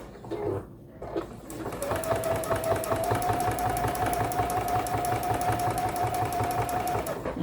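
A sewing machine stitches a fabric Post-It note cover with a steady, rapid mechanical whir and ticking needle rhythm, starting after a brief pause and running continuously close by.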